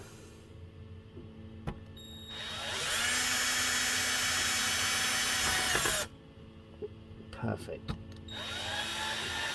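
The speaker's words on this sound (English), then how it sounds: "I've just drilled 2 extra holes." A power drill boring extra holes while an Atari Jr console is being modified, running in one loud sustained burst of several seconds between quieter handling clicks, with a brief spoken word near the end.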